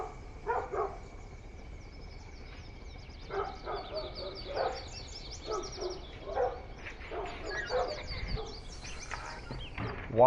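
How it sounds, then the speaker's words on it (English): Dogs barking at deer at night on a farm in Farming Simulator 19, American Grasslands map: repeated bursts of barking at close to mid range, alone with no talk, over a faint steady background. "What, are you barking at the deer?"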